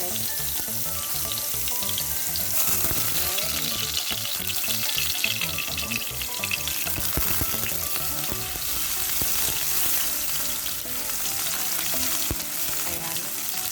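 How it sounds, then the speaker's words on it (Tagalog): Tablespoon of chopped garlic frying in cooking oil in a pan for Filipino beef pares, a steady close sizzle and crackle throughout with faint stirring, no talking. "ito yung ating cooking oil. Then we add in our garlic. It's about a tablespoon of chopped garlic."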